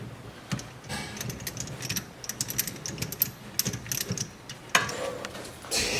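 A ratchet clicks in quick, uneven bursts while a nut is backed off an outer tie rod on a Nissan S13/S14, with close metallic ticking and brief pauses between strokes.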